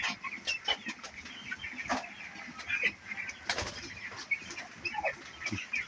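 Eighteen-day-old broiler chickens in a box on a farm cluck and cheep steadily, many birds overlapping in a busy, moderately close chorus.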